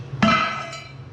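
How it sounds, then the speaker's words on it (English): A single sharp metallic tap of a hammer striking a dead block, close and ringing briefly before fading. "just using a dead block, so I don't make hammer marks in it"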